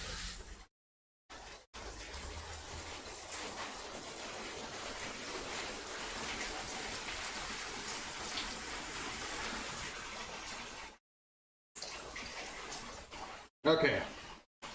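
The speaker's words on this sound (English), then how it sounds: "And here comes the rain." Rain falling as a steady, broad hiss that fills most of the stretch, cut by a few abrupt silent gaps, with a short sharper burst near the end.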